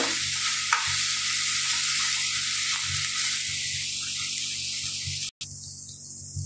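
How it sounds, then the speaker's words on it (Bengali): Onion, garlic and ginger sizzling in a pan, a steady close hiss with occasional stirring scrapes, briefly cutting out near the end before the frying resumes brighter, no voices. "পেঁয়াজ, রসুন, আদা দিলাম অল্প, দিয়ে একটু ভেজে নেব।"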